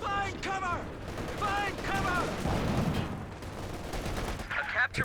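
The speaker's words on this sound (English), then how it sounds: "Sending a grenade over the building. That's some good damage" Grenade blast and rattling gunfire in the World War II strategy game Company of Heroes 2, with a rumbling explosion amid bursts of shots and a steady battle din.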